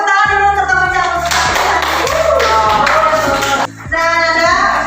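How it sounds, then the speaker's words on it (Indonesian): A class of students applauds together, a dense, loud burst of clapping with a brief dip near the end before it picks up again, with faint tonal background sound throughout. "Nih, tepuk tangan dulu untuk kamu jawab."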